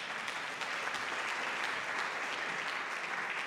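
A school concert audience claps, with dense, steady applause from many hands filling the room at moderate volume.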